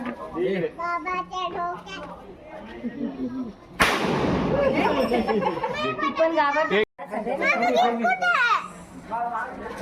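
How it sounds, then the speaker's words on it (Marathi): Firecrackers going off at a doorway to welcome a Ganpati idol, a loud crackling burst lasting a few seconds amid lively children's chatter and shouting. "आपल्या घरी गणपती आला तर दारात पोरं फटाके वाजवतात"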